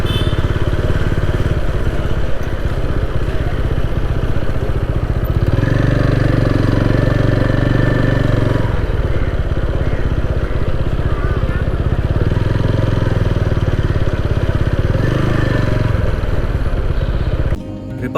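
Vintage motorcycles and cars idle at a Republic Day rally in South Mumbai, a continuous mid-pitched engine rumble with some revving and clatter throughout, fairly close and steady.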